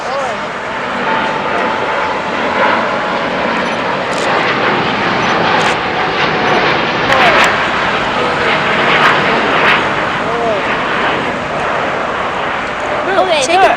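Jet engines of a Qantas airliner roar loudly and continuously during takeoff, the sound swelling slightly midway while people chat nearby over the noise.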